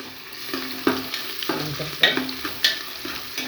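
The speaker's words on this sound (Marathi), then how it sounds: "छान असं सगळे मसाले फ्राय करून घेऊ आपण" Spices and finely chopped garlic fry in oil for a mixed vegetable dish, a steady sizzle punctuated by regular spatula scrapes and taps against the pan every half second or so, close and clear with no talking.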